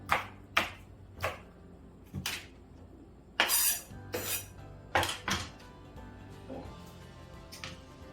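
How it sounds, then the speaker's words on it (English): Knife chopping a red onion on a cutting board, a series of sharp, close thunks at an uneven pace, some in quick pairs, with quiet gaps between cuts. "we're gonna have a little red onion that I like to have. Just cut off one portion there, cut off the end"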